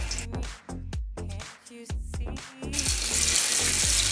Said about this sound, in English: If it's frying, it's sizzling, it's ready to go.